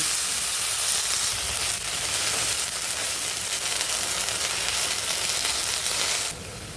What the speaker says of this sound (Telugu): పుదీనా కొత్తిమీర ఆయిల్లో బాగా వేయించుకోవాలి.